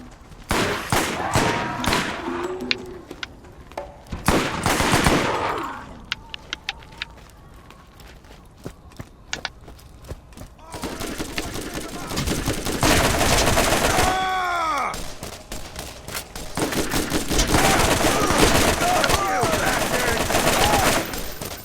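Automatic and rapid gunfire from a video game shooter set in Borderlands, bursts of shots recurring loudly through the stretch, mixed with game effects and occasional voice-like sounds.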